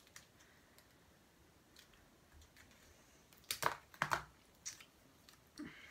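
Scissors cut open a candy wrapper in a few quiet, close snips and crinkles, sparse and brief against near silence.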